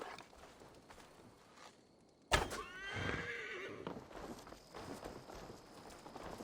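A horse whinnies once in a sudden, quavering call in the video game Assassin's Creed Valhalla, followed by faint hoof sounds over a quiet background.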